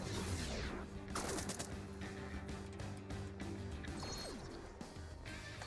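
Havoc Rifle fire in the turn-based combat video game Warborn, a rapid burst of crackling shots and impacts over a sustained game soundtrack drone, with no talk.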